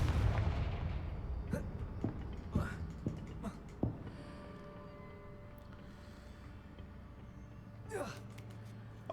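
A Confringo fire spell bursts in the Hogwarts Legacy video game, heard as a loud booming blast at the start that fades out. A few sharper cracks follow and a second burst comes near the end.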